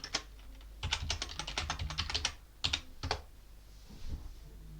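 Typing on a computer keyboard to log in to a Debian virtual machine, quick irregular bursts of clicking keystrokes close by with short pauses between.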